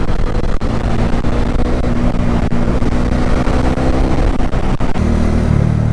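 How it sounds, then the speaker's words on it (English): Steady roar of city traffic, with car engines droning and revving continuously throughout, loud and close, no voices. "Big city traffic."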